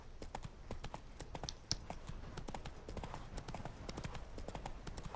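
Roach, a horse in The Witcher 3, gallops with quick, regular hoofbeats thudding close and clear in an unbroken rhythm, with a sharper knock partway through.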